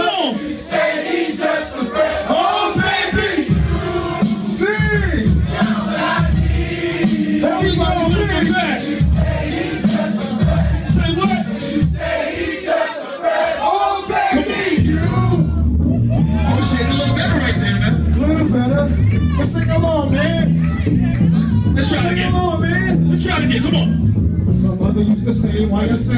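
A crowd at a live hip-hop concert on a terrace in Pasadena sings along loudly with the rappers amid music and cheering, voices blending into a dense, continuous roar.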